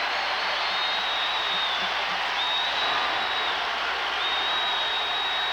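Crowd noise fills a basketball arena in Fayetteville during a 1995 Arkansas versus Kentucky game, a steady broad roar of cheering that holds throughout without a break.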